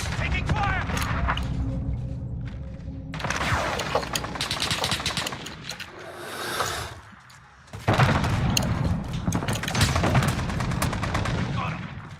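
Gunfire in a first-person shooter game: dense, loud bursts of automatic shots with a short lull, while a voice calls out over the shooting.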